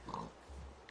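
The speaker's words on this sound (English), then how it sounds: "I don't know how a pig got in here." A pig in the video game Minecraft gives a short, quiet oink followed by a low snort, brief and faint against a soft background.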